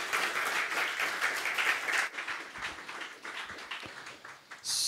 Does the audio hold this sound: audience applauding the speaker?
yes